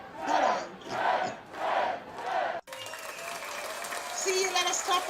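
Applause and crowd cheering play on a live show. Speech-like bursts come first, then a sudden cut to a steady wash of clapping and cheers that swells toward the end.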